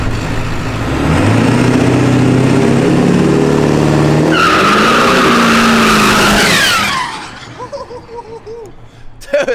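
A powerful truck engine roars and revs hard at an open day, then tires squeal and skid, before the roar drops to a lower rumble with voices nearby.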